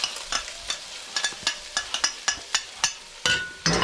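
Onions hit a hot pan over raised heat while an Italian Sunday tomato sauce is being started. Close, loud bursts of crackling sizzle come in a quick, uneven rhythm, as if the onions are being tossed and stirred.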